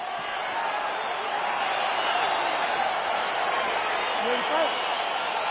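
A broad, steady roar of an arena crowd building excitement in the video game UFC 4 as a welterweight fight begins, with a voice speaking briefly over the continuous noise.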